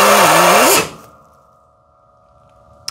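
A loud power tool cuts into a radiator, a harsh whine that winds down after about a second, leaving a fading hum and a single sharp tap at the end.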